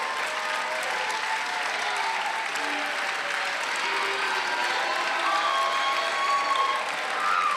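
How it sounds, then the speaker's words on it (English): Applause and some cheering from a student congregation at a university chapel service for elected student government candidates, steady and dense throughout with no speech over it. "would you please stand for a final round of applause from your students?"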